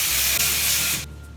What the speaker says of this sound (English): I always spray something on my hair while I have these in it